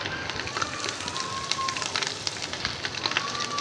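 Whole spices (cardamom, cinnamon, bay leaves, cloves) sizzle and crackle in hot oil in a pot for beef biryani, a steady close frying hiss with scattered pops throughout.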